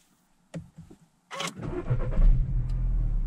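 A Skoda Octavia engine starts: a couple of door or interior clicks, a brief starter crank, then the engine catches and settles into a steady, close idle.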